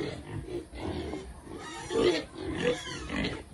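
Piglets on a farm grunt and oink in short, irregular bursts, fairly close and moderately quiet, with a few louder squeals mixed into the snuffling.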